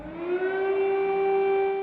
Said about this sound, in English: emergency air raid sirens wailed